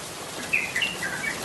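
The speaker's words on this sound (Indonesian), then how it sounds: "Burung merbah cerukcuk, atau yang lebih dikenal dengan terucukan ini, adalah burung yang berukuran sedang" A yellow-vented bulbul sings a few short, bright chirping phrases over a steady hiss of background noise, clear but not loud.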